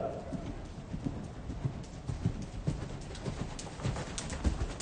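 A horse canters in a riding clinic arena, its hooves thudding in a steady rhythm nearby while pigeons coo and a voice speaks in the background.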